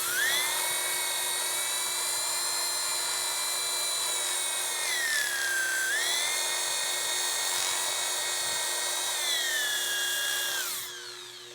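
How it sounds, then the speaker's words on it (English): Sandpaper pressed hard against a woodturned bowl spinning on a lathe gives a steady, loud, high whining squeal whose pitch dips and rises, holding for about eleven seconds before trailing off, with no talking. "Make the sandpaper grunt a little bit."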